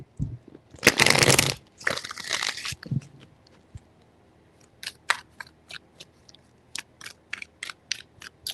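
Tarot cards are shuffled close up, with a loud riffling burst early on followed by a scattering of sharp, separate card snaps and taps.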